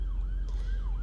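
An ambulance siren wails, sweeping up and down at a moderate distance over a steady low rumble of traffic.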